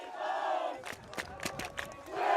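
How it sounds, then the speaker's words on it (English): Crowd at a boys' soccer playoff match cheering and shouting, a steady roar with sharp bursts of yells rising and falling, fairly loud and without speech over it. "And now the crowd cheering on Willie Bones."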